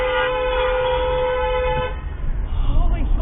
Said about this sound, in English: you can't fucking honk at me like that